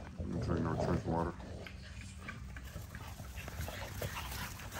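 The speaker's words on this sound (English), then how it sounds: "I'm gonna let you guys get a chance to see all the puppies play with their daddy" XL pitbull puppies romp with their adult father, giving off close, rough growls and snuffling yips in bursts that ease into scuffling and low play noises, with a person speaking at moments.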